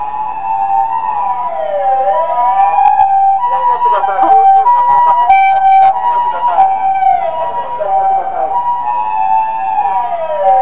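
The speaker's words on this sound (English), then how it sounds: "Oh, here comes an ambulance." An ambulance siren wails up and down in long repeating sweeps on a street in Haruyoshi, loud and close throughout, with other traffic and street noise underneath.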